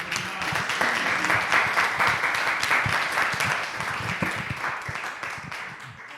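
An audience applauds Eduardo at a nephrology gathering, with steady, dense clapping from a crowd that runs loud and even for about six seconds before easing slightly toward the end.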